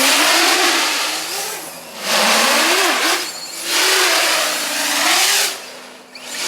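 An iFlight 5215 330kv motor on a 12s X-class drone throttles up in three loud surging bursts, its whining pitch rising and falling with each punch of throttle, with brief dips between.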